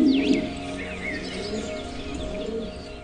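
A German Seven Star pigeon in a loft coos softly at close range, with faint chirps and a low hum in the background.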